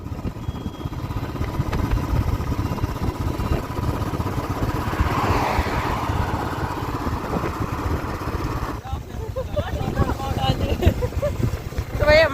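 Motorbike engine droning steadily alongside heavy wind buffeting the microphone on an open road ride, loud and continuous, with people talking over it.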